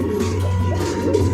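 Pigeons at a pigeon loft, soft low cooing close by, steady and continuous with faint rustling.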